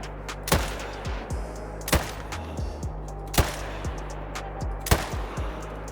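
Perry .308 five-round semi-automatic rifle fired in Call of the Wild: four loud, sharp shots spaced about 1.5 seconds apart, each followed by a short echoing tail, with no talking.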